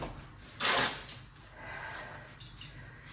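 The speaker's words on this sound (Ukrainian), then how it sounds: "І зараз я буду нарізати" A knife or cutlery scrapes and clinks against a plate while slicing a chicken fillet topped with melted mozzarella, one firmer clatter up front followed by quieter taps and scraping, close and otherwise quiet.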